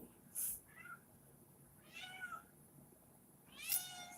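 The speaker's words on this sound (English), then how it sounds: "Well, see, and Blue, my cat Blue, agrees" A cat meows three times at a slow, uneven pace, each call fairly close and distinct, with quiet pauses between them and no talking.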